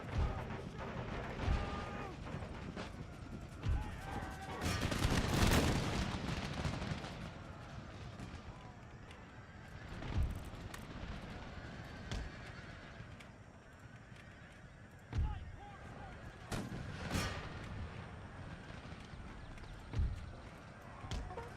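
Musket and artillery volleys from troops opening fire in Empire: Total War (Darthmod), a US campaign battle; booming shots recur every few seconds, with a heavy burst early on, among horse hooves and neighs, and someone talks between volleys.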